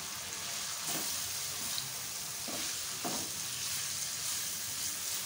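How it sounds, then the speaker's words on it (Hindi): Carrots are tipped into chicken frying in a pan, giving a steady, close sizzle with a few soft stirring scrapes over it. "अब वेजिटेबल डालना शुरू करें। सबसे पहले गाजर डाल दें।"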